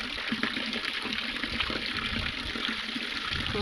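Water falls in a steady, dense rushing gush, like a small waterfall or channel spilling down to irrigate plants, constant and fairly close, with no voices over it.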